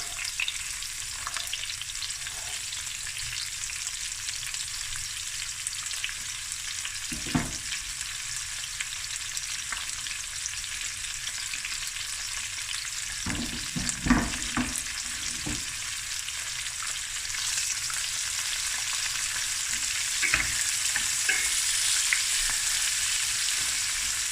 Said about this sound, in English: And I'm going to add 3 fresh chilies and the onions